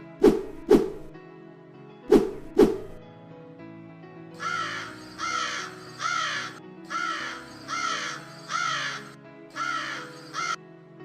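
A cartoon crow caws in short, loud, repeated calls: a few sharp bursts and then a steady rhythmic run of caws, close and alone, with no other sound.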